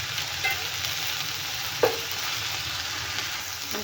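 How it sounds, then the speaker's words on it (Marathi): Fenugreek sautés in oil for a chutney: a constant near sizzle runs throughout, broken by one distinct knock of a spoon or ladle stirring partway through. No voices are heard. "मेथी छान तेलात परतून घेण्यासाठी मी इथे परत अर्धा पळी घालणार आहे तेल"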